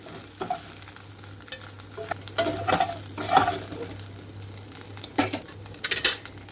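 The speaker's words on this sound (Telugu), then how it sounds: "ఇది కొంచెం కలర్ మారే వరకు వేయించుకోవాలండి" Meal maker soy chunks fry in a pan for a gongura curry, with a soft steady sizzle under repeated scrapes and clinks of a spoon stirring against the pan, close and unaccompanied by speech.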